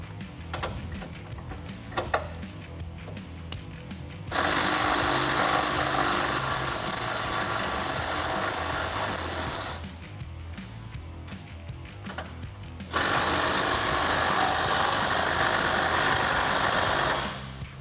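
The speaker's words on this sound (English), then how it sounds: "I'm going to take my 18 millimeter socket on a 3/8 impact gun and get these bolts off" A 3/8 impact gun with an 18 mm socket driving off headlight bolts on a 2011-2016 Ford SuperDuty: two long, loud, rattling bursts of hammering, each several seconds, separated by quieter clicks and handling.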